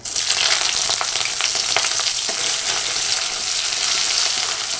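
Whole garlic cloves and onion hit hot oil in a pan for a rohu fish-head and cabbage ghonto, making a loud, bright, continuous sizzle with light crackles, close up and with no voices.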